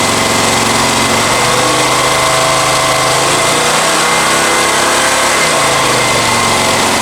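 A Honda EX1000 portable generator engine runs steadily under a heater load, a loud continuous mechanical drone with no pauses and no talk over it.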